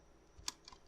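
A single computer keyboard key press, a short sharp click near the middle, with a fainter tap after it in a quiet room during character setup in 3D modeling software.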